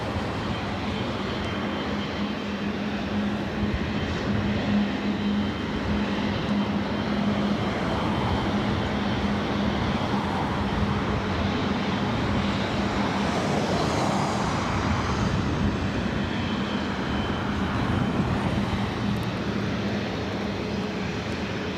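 A Qatar Airways Airbus A350-1000 takes off from LAX on the south side, its engines giving a long, steady, fairly distant roar that swells slightly midway and holds throughout, with no one talking.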